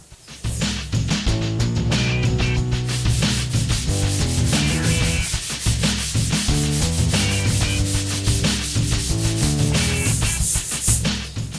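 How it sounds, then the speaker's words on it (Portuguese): Car bodywork on a Lifan being block-sanded with 80-grit paper, dense rhythmic back-and-forth rubbing strokes, close and loud, repeating steadily throughout without speech. "Agora eu vou vir com o taco, tá? Lixinho 80, finalizando aqui o nivelamento."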